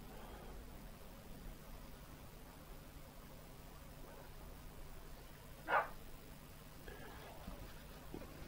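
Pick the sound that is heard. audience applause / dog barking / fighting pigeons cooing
dog barking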